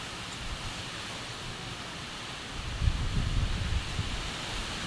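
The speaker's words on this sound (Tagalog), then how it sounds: "Sobrang lakas po ng hangin dito" Strong typhoon wind roars as a steady, dense rush of noise, swelling with louder low gusts midway, with no voices.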